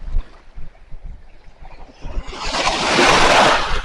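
Low rumbling buffets give way to a loud, roaring rush of wind blasting the microphone on a beach while light-rod fishing for bluefish, mixed with surf-like hiss at the shore.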